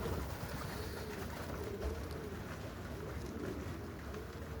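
Racing pigeons from a loft team cooing softly and continuously outdoors as they come in, low and fairly faint against steady background noise, with no talking.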